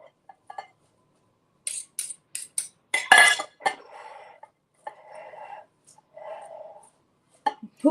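Salad being tossed and mixed in a bowl in a home kitchen, giving a few quick clinks and scrapes, then a burst of louder rustling and knocking, followed by softer intermittent stirring and sharp taps near the end.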